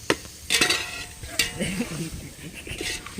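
A ladle stirs a big batch of biryani, scraping and clanking against the pot in irregular strokes with a faint sizzle beneath, close and fairly loud.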